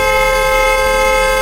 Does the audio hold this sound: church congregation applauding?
no